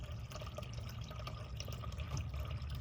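Waste water drains and rinses out of the gray tank of a 2022 Winnebago Travato 59KL, a faint, continuous gurgling trickle with scattered drips and splashes and no talk.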